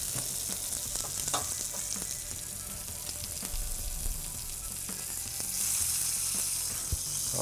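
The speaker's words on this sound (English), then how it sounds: "sizzle is good." Chicken pieces sizzle and fry in a pan with pepper and salt, giving a steady, dense crackling hiss that continues throughout at close range, with occasional faint clinks and scrapes.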